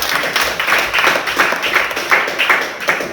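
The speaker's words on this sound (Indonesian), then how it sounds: "tepuk tangan untuk kita semua" A classroom of students clapping together in a rhythmic, patterned beat, loud and close, with regular bursts repeating across the whole stretch.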